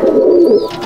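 Racing pigeons in a loft give a close, steady, loud cooing, a sustained low warble that briefly dips near the end, heard alone without talk.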